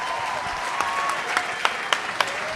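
A dense wash of audience applause fills the room at a comedy festival show, steady and fairly loud, with a few sharper individual claps popping out near the end.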